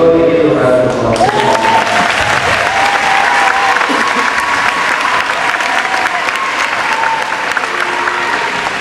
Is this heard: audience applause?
yes